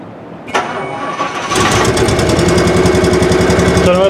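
Rolls Royce engine starting: a click, then the starter cranks briefly before the engine catches and settles into a loud, close, steady idle.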